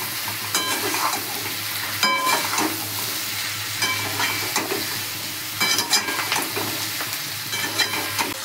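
Fried chicken pieces are stirred in a sizzling pan, a constant close hiss broken by repeated scraping and knocking of the spatula.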